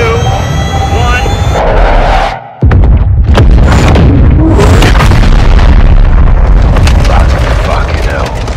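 A Call of Duty Modern Warfare 2 (2022) airstrike slamming into its target, a brief dip then a huge booming blast followed by a long roaring rumble with crackling debris, with radio chatter in the scene.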